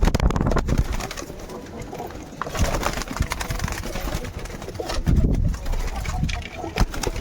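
Pigeons coo repeatedly close by in a loose, rolling rhythm, with a faint voice and general background noise underneath.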